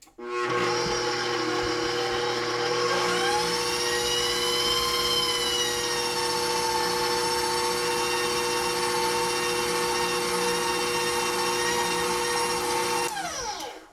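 A stand mixer fitted with a paddle beats thick sourdough cornbread batter containing melted butter, giving a loud, steady motor whine that runs for most of the span, rising slightly in pitch early on and winding down abruptly at the end.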